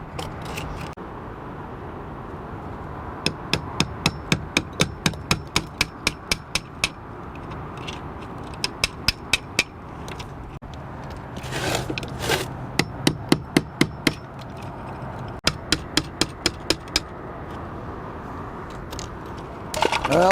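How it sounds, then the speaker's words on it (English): Hammer striking a chisel to chip concrete for an electrical box: quick runs of sharp metallic taps in several bursts, separated by brief pauses and faint handling noise. "But I have to chisel off some there and there."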